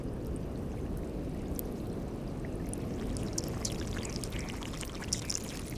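Melting glacier ice releases a dense crackle of tiny popping air bubbles over a steady watery wash, the small plops scattered and faint throughout.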